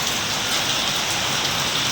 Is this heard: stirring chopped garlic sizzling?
no